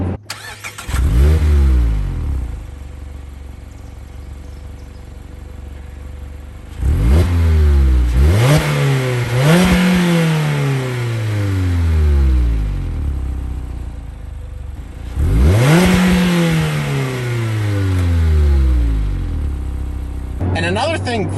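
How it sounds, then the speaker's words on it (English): A 2021 Mazda Miata Grand Touring's quiet four-cylinder exhaust swells through three accelerating runs while driving, each rev rising then dropping through gear changes, with a low hum between pulls. "So the exhaust in the Miata is super quiet."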